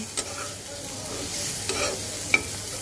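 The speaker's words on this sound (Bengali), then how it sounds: "এইবার আমি মাছটাকে একটু ভেজে নেব।" Shrimp frying lightly in a pan with little oil, a continuous soft sizzle broken by a few sharp scraping stirs of a spatula, close and with no talking.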